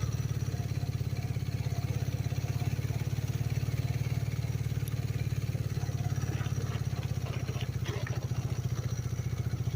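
A 1980 Honda CM400T motorcycle in need of new carburetor parts runs in first gear while being ridden, its engine a steady, close, loud low drone with a rapid pulsing thrum and little change in pitch throughout.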